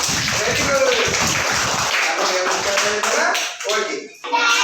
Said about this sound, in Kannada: ಚಪ್ಪಾಳೆ ನೋಡಿ.